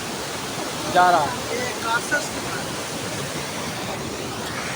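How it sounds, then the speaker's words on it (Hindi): River water rushes steadily past in Swat, a constant broad hiss filling the scene, with a few brief voices in the foreground. "ये पानी बह रहा है इस साइड से"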